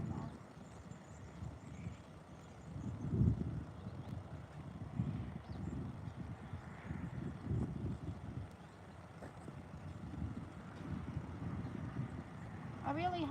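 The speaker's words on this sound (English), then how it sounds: "It's getting ridiculously windy again." Gusty wind buffets the microphone in low rumbling bursts that rise and fall, with a voice briefly heard near the end.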